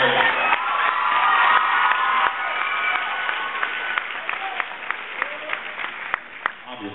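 Applause and cheering from a school promotion ceremony crowd, dense clapping with scattered whoops and children's shouts, loud at first then settling into steady clapping with sharp individual claps.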